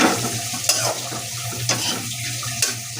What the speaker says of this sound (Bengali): ধনিয়ার গুঁড়া, সামান্য মরিচের গুঁড়া দিয়ে আমি হালকা একটু কষাই নিব।